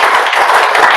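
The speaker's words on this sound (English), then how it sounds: "give yourselves a round of applause" An audience at a presenter training session claps, a short, close run of sharp, quick hand claps with fairly loud individual slaps.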